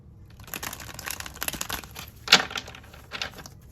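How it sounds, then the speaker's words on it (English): Tarot cards are shuffled close by, a string of crisp rustles and papery slaps with one sharper snap near the middle and no talk. "Get one more shuffle."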